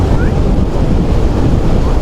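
Water from Nagarjuna Sagar dam, released from the pump house and hydro power plant, roars as a loud, steady broadband rush with heavy wind buffeting the microphone throughout.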